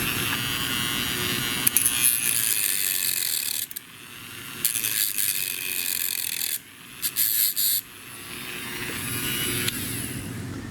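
A tool grinds and shaves away part of a homemade air engraver handpiece, giving a loud, steady abrasive whir with brief pauses and short bursts of rattling scrape.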